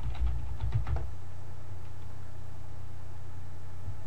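Computer keyboard typing in a quiet room, a short burst of quick keystrokes in the first second, then only faint steady background hum.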